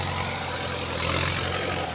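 A Mahindra M7508 turbo tractor engine idles steadily with a constant low hum and a high whine, rising slightly in loudness partway through.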